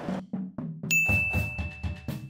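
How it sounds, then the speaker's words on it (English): Muffled drum strokes thump in a rhythm while a high, clear piano note starts partway through and rings steadily beneath them. "should be able to hear that piano note right after"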